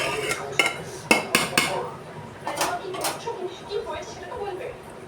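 A spoon scrapes and clinks against a metal pot while cooked rice is stirred, giving several sharp clinks early and then softer intermittent scraping, close up.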